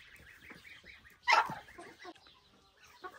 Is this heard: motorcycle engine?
no